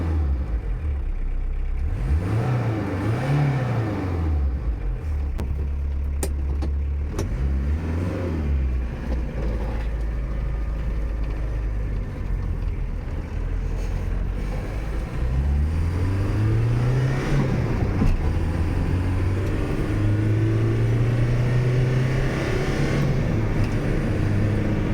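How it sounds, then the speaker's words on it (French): A diesel engine runs with its fuel flow turned up to maximum, idling loudly and revving up and down in several rising and falling sweeps over about 25 seconds, close and continuous with no talk. "Donc là on a remarqué que le régime moteur il était plus haut."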